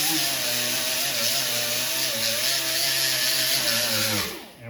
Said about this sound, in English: Okay, I got my little angle grinder here.